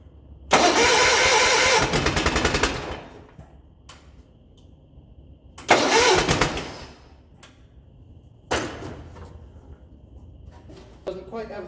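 A 1975 John Deere 400 tractor with a Kohler K532 engine is cranked over three times after a starter replacement. Each attempt is a loud, close, grinding starter burst that stops without the engine catching, with quiet pauses between attempts.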